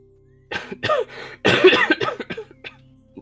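Several rough coughs and throat-clearing sounds in a quick uneven burst, close and fairly loud, with a faint low hum underneath, in a Warrior Cats game.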